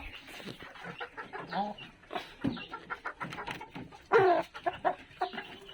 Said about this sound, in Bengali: আমি একটু মুরগিকে খাওয়ায় দেখাই কেমনে খায় এরা